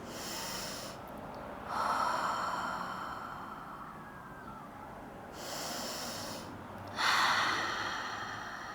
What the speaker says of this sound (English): Good, big, deep breaths.